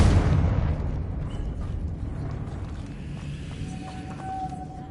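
A Confringo fire spell explodes in Hogwarts Legacy, a loud booming blast at the start that rolls off into a long decaying rumble with faint crackling debris.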